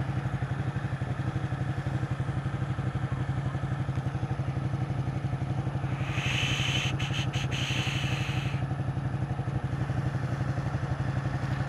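A Ducati 899 Panigale motorcycle rumbles steadily through city traffic, its engine note continuous and close, with a brief burst of higher hiss and clatter partway through.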